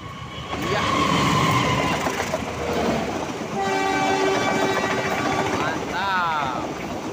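A parcel train passes westbound through the Cimekar block, its loud rumble and clatter rolling steadily close by, then a horn blares in sustained tones near the end. A voice can be heard faintly beneath.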